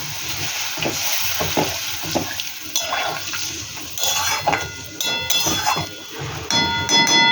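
Cauliflower curry with spices sizzling in a pan as water is poured in, a continuous frying hiss with clinks and scrapes of a utensil against the pan, close and fairly loud, with no talk.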